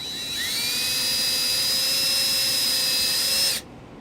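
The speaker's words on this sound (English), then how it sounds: "we're going to drill a 3/32 pilot hole in this spot" A high, steady power-drill whine drilling a 3/32 pilot hole in metal on a 2014 Dodge Journey runs for about three seconds, rising slightly as it starts, then stops abruptly, close and loud.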